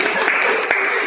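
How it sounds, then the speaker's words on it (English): Audience applause for a speaker, the president, at a PR and marketing talk on luxury brands: steady dense clapping filling the room throughout, with faint voices underneath. "Please give a round of applause for her."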